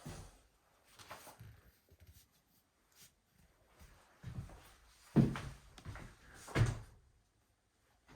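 Pine interior doors in a house being opened and closed, with a few soft knocks and two sharper thuds of a door meeting its frame, widely spaced and fairly quiet.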